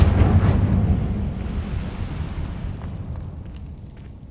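Incendio fire spell cast in Hogwarts Legacy, a loud whooshing fiery burst with a deep rumbling body that swells at once and then slowly fades away over several seconds.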